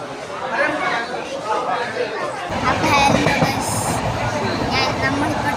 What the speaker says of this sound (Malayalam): ട്രെയിൻ പോകുന്നതാണ്.